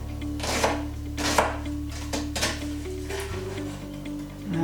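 A knife chops straight down through a vegetable on a cutting board: several crisp, close knocks at an uneven pace over a quiet background.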